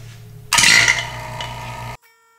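A vacuum chamber pump switches on abruptly to pull bubbles from deep-cast resin in a woodturning shop, running as a loud, steady roar for about a second and a half before cutting off sharply.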